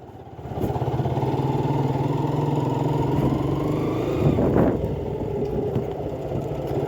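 A new motorcycle's engine idles steadily near a parking spot, a close, even rumble with a brief louder surge partway through.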